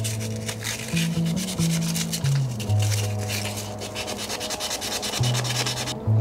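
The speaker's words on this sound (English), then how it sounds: "Now we just have to rub it down. So this is just 400 grit." A wooden needlefish fishing lure is rubbed down with 400 grit sandpaper, making a steady, close scratchy rasp in repeated back-and-forth strokes that continues throughout.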